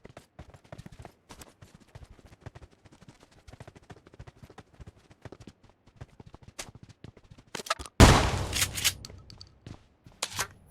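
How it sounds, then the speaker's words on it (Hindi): Gunfire in a shooting video game: a loud burst of shots erupts near the end after a stretch of faint, scattered game sounds. "अब गाइस वहां से मेरे को आई थी फायरिंग की आवाज़"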